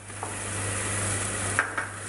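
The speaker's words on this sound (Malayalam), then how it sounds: "ഇത് നമ്മളതൊന്ന് വഴറ്റുന്നു." Chopped ginger and green chillies sauté in oil in a pan, a soft, steady sizzle with a few light clicks of a spoon or spatula stirring, close by and with no voices.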